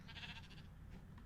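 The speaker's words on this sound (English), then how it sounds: "Now, I'll try and do this without releasing the sheep." A sheep bleats once in a Minecraft game world, a short, fairly faint wavering call heard alone.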